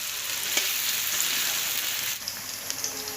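Onions and green chillies fry in a pan with a steady, close, hissing sizzle like fine rain, a light stirring clack or two near the end, and no one talking.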